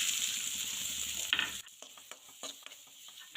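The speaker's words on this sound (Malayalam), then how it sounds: "കടച്ചക്ക വേകുന്ന സമയം കൊണ്ട് നമുക്ക് തേങ്ങ വറുത്തെടുക്കാം" Grated coconut roasting in oil in a pan for a breadfruit curry: a steady sizzle that gives way to scraping stirring strokes and small clinks, close and moderately quiet.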